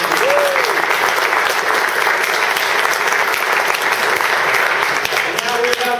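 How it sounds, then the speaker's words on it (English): An audience at a technology talk gives a guest speaker a sustained, loud round of applause, a thick, even wash of clapping with a faint voice or whistle briefly rising above it. "give a great big round of applause, Dr."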